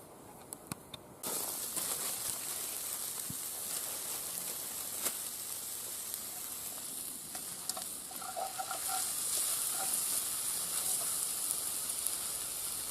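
Sausage casserole with peppers and onions cooking over a campfire, a continuous close sizzle and hiss with occasional sharp crackles and pops, steady throughout with no talking.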